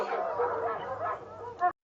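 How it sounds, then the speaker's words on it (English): Dogs bark and yip in the background as heard through AirPods, muffled and steady, ending in one sharper bark before cutting off. "this is the AirPods with barking dogs in the background"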